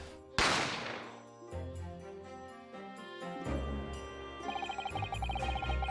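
A single sharp gunshot blast in a video game courtroom scene, followed by sustained game music with rising tones and a pulsing rhythm toward the end.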